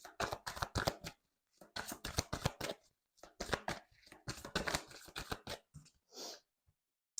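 Tarot cards are shuffled in several quick riffling bursts separated by short pauses, close and crisp, ending with a soft single card being drawn.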